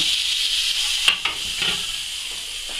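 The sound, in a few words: butter and oil melting in a hot pan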